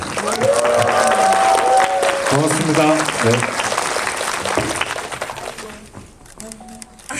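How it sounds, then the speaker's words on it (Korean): Audience applause for the film's actors at a Korean movie screening Q&A in a Lotte Cinema World Tower theater, loud and dense at first, then thinning out toward the end, with people talking over it. "우리 고생한 배우들한테 박수 한 번만 다시"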